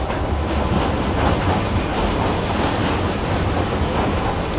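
A passenger train runs on rails in Myanmar, with a loud, steady rumble and rhythmic clickety-clack of wheels heard close up from inside, no talk.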